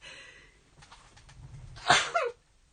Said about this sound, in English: Excuse me, sneezes.